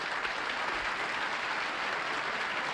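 A game show studio audience applauds steadily and fairly loudly throughout, a dense even wash of clapping with no break.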